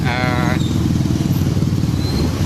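Motorcycles of holiday travellers crowd Bakauheni port in Lampung, Indonesia, with a loud continuous engine rumble and revving from many bikes close by, under a reporter's voice.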